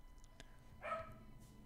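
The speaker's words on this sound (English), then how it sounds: "If only that dog would shut up." A dog barks in the action-adventure game Uncharted 4: A Thief's End, with one short burst near the middle of the clip, moderately distant and fairly quiet over a low background hum.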